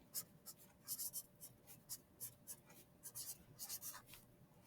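Pen or pencil writing a word by hand on paper, a quiet series of short scratchy strokes in an uneven rhythm, close up over a faint steady hum.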